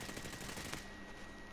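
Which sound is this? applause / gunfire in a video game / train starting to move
gunfire in a video game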